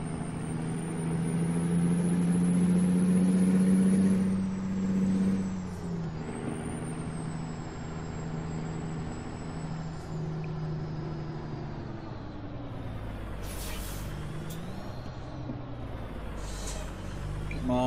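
A truck engine drones steadily in American Truck Simulator, loud at first then easing, with hissing air-brake releases near the end; no talking is heard.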